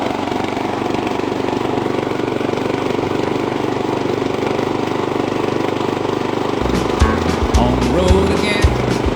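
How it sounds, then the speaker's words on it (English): A repaired lawn mower's small gas engine runs steadily with a rough, buzzing drone, then gets louder and choppier as it revs and knocks near the end, while someone speaks briefly over it. "we're going to try to fire it up and maybe take it for a spin"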